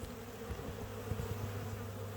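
Honey bees swarm over a large hive being removed from a hot roof, giving a dense, steady buzz with a low droning hum that fills the whole moment at close range.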